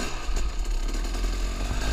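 Two-stroke supermoto motorcycle engine running hard as the bike hops a curb, a loud, continuous buzzing rasp held close for the whole two seconds with no talk over it.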